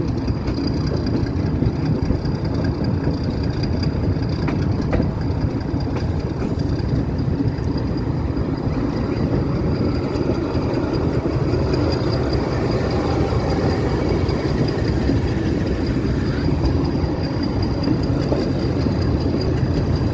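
A metre-gauge passenger train at Nanpara Junction gives off a continuous, fairly loud rolling rumble with a faint rhythmic rail clatter, steady from start to finish with no voices.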